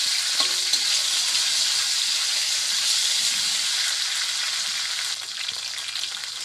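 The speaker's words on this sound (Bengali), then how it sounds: "পেঁয়াজ কুচিটা কিছুক্ষণ আমি ভাজতে থাকব।" Chopped onion frying in hot oil for a prawn and taro-stolon curry: a loud, continuous close sizzle with faint stirring clicks, easing slightly near the end, no one talking.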